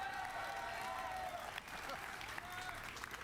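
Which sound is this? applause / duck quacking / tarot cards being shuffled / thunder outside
applause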